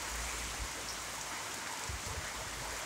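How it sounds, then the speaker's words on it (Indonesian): Steady evening rain hissing down in Kampung Batang Mitus, Tutong, with moderate wind, a continuous wash of falling water with low rumbles underneath and no voices. "Hujan sudah mulai turun."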